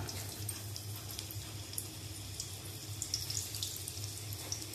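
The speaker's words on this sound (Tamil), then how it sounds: "இப்போ எண்ணெய் நல்லா சூடாகிட்டு அந்த டைமில் நம்ம கிழங்காயில் சேர்த்துடலாம்." Cassava slices hit hot oil and fry with a faint, steady bubbling hiss, the crackle spreading into a continuous watery sizzle with light pops and no talk.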